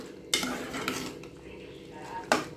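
A metal cooking pot of bottle gourd kootu being opened in a home kitchen, with a few sharp clinks and scrapes of lid and utensil against the pot.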